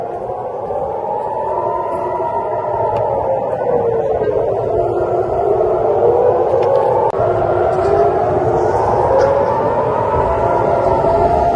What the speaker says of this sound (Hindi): और सायरन्स लगातार बज रही हैं।